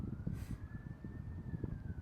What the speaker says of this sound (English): Sirens every day, every day.